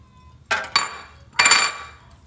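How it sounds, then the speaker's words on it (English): A utensil clinks against a cooking pot while flour and shrimp are stirred into a roux for étouffée, giving three sharp, close metallic knocks with short ringing tails and quiet gaps between. "And then we're going to start stirring."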